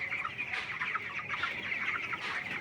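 Chickens cluck close by, with several overlapping, irregular clucks in quick succession and no talk.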